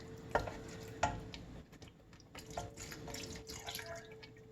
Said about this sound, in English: So let's add in the milk.